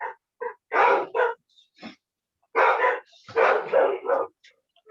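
Dogs bark during an online Zoom meeting, several sharp close barks in two bursts with short yips between, loud and clear against near silence.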